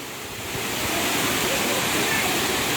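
Water pours down a hidden waterfall found while trekking, a loud, continuous broadband rush that swells within the first half second and then holds steady and close.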